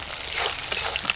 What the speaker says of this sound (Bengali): সর্ষের তেল, শুকনো লঙ্কা আর তেজপাতা ফোড়নে দেব।